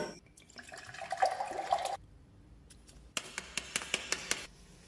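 Water poured from a glass onto a cigarette: a close splashing pour that stops abruptly midway, followed after a pause by a run of sharp, rhythmic clicks or taps.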